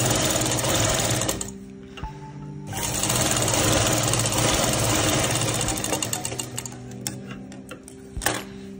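A sewing machine stitches a strip onto a baby dress in bursts of fast, even mechanical whirring, with short pauses between runs and a small clunk near the end.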